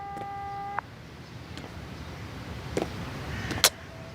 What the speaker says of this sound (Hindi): उठा लो सरकन, उठा लो, फोन उठाओ मेरा।